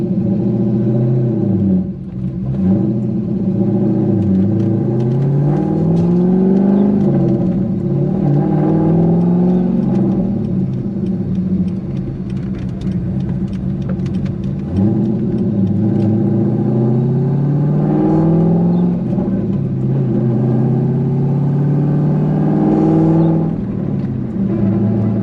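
A cammed C5 Corvette Z06 engine drives on the road with manual shifting, its loud, lopey rumble rising and falling through repeated revs and gear changes, close and continuous with no talking.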